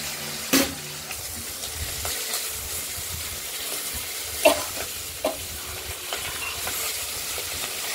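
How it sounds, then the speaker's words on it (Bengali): Rohu fish head frying in a pan gives a steady, quiet sizzle under a few sharp clinks and scrapes of a utensil against the pan. "মাছের মাথাটা ভাজা হচ্ছে।"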